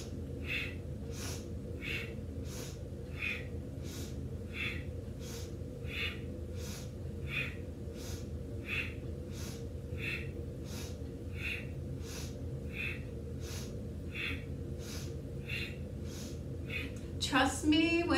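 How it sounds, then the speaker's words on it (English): Sharp, rhythmic breaths taken in and out through the nose during a lymph-moving kriya exercise, around twenty quick puffs at a steady pace over a constant low hum, cut off by a brief clatter at the end. "Breathe in, breathe out."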